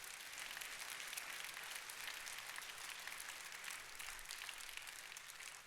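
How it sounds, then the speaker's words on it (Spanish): A church congregation applauds in sustained, dense clapping that holds steady throughout, filling the room without any voices on top. "yo no quiero el aplauso de ustedes"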